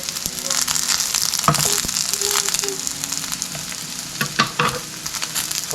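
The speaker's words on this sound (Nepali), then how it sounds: "मैले यो लसुन हरियो लसुन पनि थोरै ग्रिल गरौँ" Green garlic sizzles on a hot grill with continuous crackling and popping, a few louder spits and scrapes scattered through.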